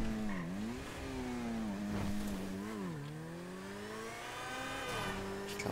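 A fast car races through GTA V, its engine note rising and falling through repeated gear changes, loud and close, running steadily and alone throughout.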